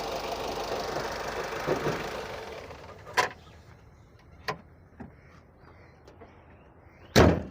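A 2018 Honda City's engine runs close by for a few seconds, then cuts off, followed by several sharp isolated clicks and a thud like a door shutting.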